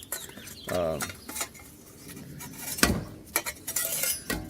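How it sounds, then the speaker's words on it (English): Ashes scraped from an Uuni pizza oven into an old tomato can: scattered metallic scrapes, taps and clinks, uneven and fairly close, with a brief squeaky metal rub early on. "We can easily use an old tomato can to scrape the ashes into"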